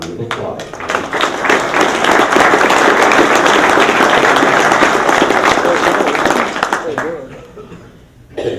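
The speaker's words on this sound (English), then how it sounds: "I'd like the committees to get a round of applause" An annual golf association meeting's audience gives committee members a round of applause: dense, loud clapping that builds quickly, holds steady, then thins out and fades near the end.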